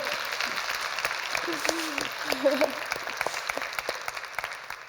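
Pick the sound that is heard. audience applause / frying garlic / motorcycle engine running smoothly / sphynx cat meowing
audience applause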